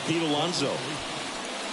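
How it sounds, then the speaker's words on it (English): Steady rain hiss from a rain-soaked ballpark in the video game MLB The Show 24, a continuous broadband wash running under a commentator's voice. "This rain is not letting up."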